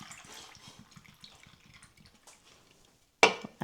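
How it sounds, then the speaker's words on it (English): An Arnold Palmer drink being poured into a glass: faint trickling and small liquid splashes in a quiet room, ending with a sharp clink or clatter. "pour your Arnold Palmer"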